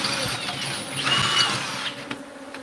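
A power drill bores holes in a brief whirring burst near the middle, rising and fading against low background noise.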